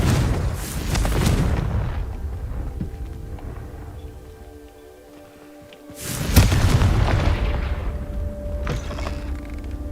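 Fire spell explosions in the video game Hogwarts Legacy, two loud booming blasts with rumbling tails separated by a brief lull, heard alone without talk.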